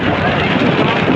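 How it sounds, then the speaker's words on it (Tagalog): Strong wind roars at sea aboard a fishing boat, a loud, continuous broadband rush buffeting the microphone with no pauses. "Lakas ng hangin."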